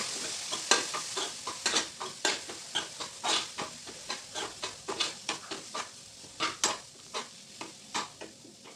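Cauliflower paratha filling is stirred and fried in a pan, with a steady run of scraping stirs over a soft, continuous sizzle, close and fairly quiet.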